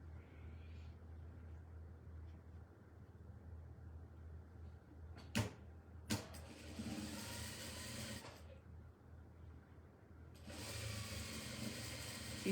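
A sewing machine stitches quilt rows in short bursts of fast mechanical whirring, separated by pauses and a couple of sharp clicks, heard close up over a quiet room hum.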